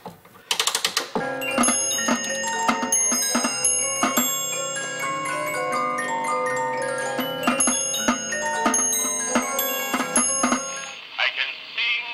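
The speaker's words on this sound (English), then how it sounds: "It has a brass cylinder, just like the other one, but it also has bells and a drum, and we'll wind it with a lever." An antique 1865 cylinder music box with a brass cylinder, bells and a drum, wound with a lever, plays a bright plucked tune. Ringing bell tones and soft drum taps run through it for several seconds before it winds down.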